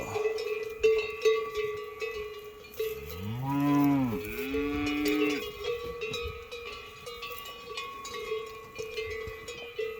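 Berrenda cattle moo outdoors among clanking cowbells. One long, deep, wavering moo rises and falls over a steady bell jangle and faint background sounds, and no one speaks.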